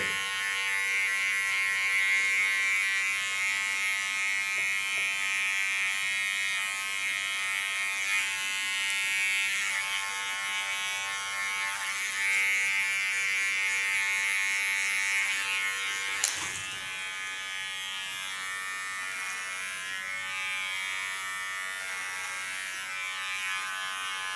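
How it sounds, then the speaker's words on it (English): Small electric hair clipper trimming the contour line of an asymmetric haircut: a continuous close, high buzzing hum lasting the whole stretch, with a brief click partway through and no talk. "With my small clipper, I clean the contour line."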